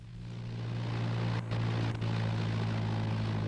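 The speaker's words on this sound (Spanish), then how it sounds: "El Füssler Storch, casi un helicóptero, podía aterrizar y despegar casi en cualquier sitio." Steady drone from a Fieseler Storch propeller aircraft in flight, a strong low engine hum with a dense wash of noise above it and two brief dips in the sound.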